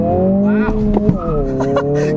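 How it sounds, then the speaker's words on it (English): A 2022 Honda Civic Si in sport mode accelerates hard on a back road with its front wheels spinning, the engine note climbing steadily and close for a couple of seconds. "Got some wheel spin."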